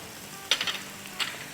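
Paneer sizzles in a hot pan over a high flame as soy sauce is added, a steady hiss with two sharp spurts of crackle and faint clinks of a utensil.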